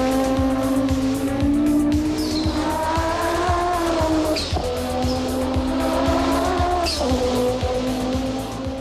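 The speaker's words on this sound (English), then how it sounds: "This is a five-cylinder turbo engine with 720 horsepower." A 1989 Audi 90 IMSA GTO race car with a 720-horsepower five-cylinder turbo engine, loud and close as it revs hard through gear changes, with tire squeal over the engine's howl.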